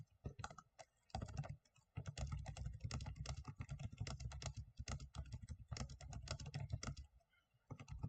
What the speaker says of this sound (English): So I am going to type that out.